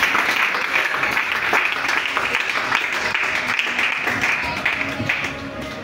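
A church congregation claps and cheers for the Lord in sustained, dense applause with voices mixed in, loud and close throughout.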